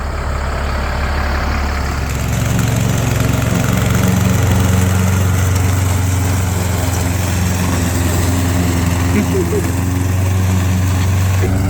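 A Cummins 8.3 ISC diesel engine runs steadily at idle, a loud continuous low rumble with a constant drone throughout, close by, with no speech over it.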